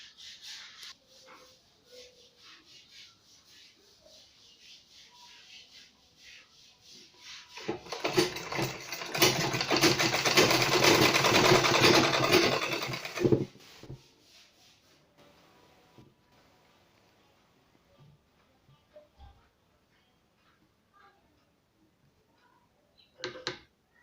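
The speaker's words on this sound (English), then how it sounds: "So you're going to sew it this way, just the same procedure." A sewing machine stitches a polo shirt placket in one loud sustained whirring burst midway through a quiet stretch, close by, with faint handling noises before and after.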